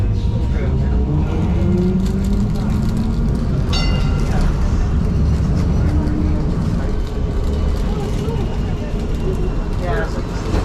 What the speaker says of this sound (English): I've never taken this tram.